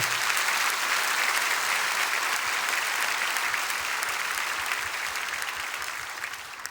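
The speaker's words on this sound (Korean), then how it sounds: "우리 큰 박수로 응원하도록 하겠습니다" A church congregation at a Korean prayer meeting applauds in support of a pastor's healing, a dense, steady wash of clapping from many hands that holds for several seconds before gradually thinning toward the end.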